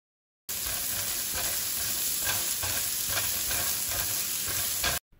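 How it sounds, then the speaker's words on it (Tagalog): Onion and spring onions sautéing in hot oil in a pan, a dense continuous sizzle with frequent stirring scrapes, close and loud, stopping abruptly at the end. "At dahil mainit na yung mantika, igisa na natin itong sibuyas, haluhin ng bahagya."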